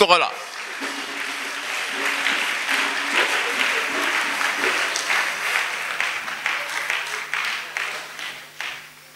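A church congregation at a salvation and healing weekend in Séguéla claps and cheers for Jesus Christ, loud sustained applause mixed with shouts from the crowd, slowly easing off over several seconds.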